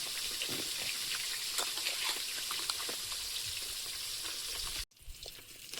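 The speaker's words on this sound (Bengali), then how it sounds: "মাছগুলো ভেজে নিচ্ছি।" Small fish and shrimp sizzle loudly in hot oil in a wok with steady crackling and popping, close up, before the sizzling suddenly drops to a quieter background near the end.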